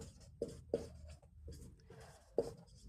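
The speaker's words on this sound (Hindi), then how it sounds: "सीधा सीधा लिख लेते हैं" Pen scratching across paper in quick, soft strokes, a handful of short scribbling bursts close to the microphone in a quiet room.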